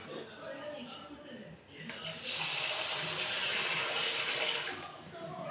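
Water runs into a pot of rice set to soak for a one-pot sambar rice, a steady broad splashing pour that swells for a few seconds and then tapers off, with faint kitchen background and no talk.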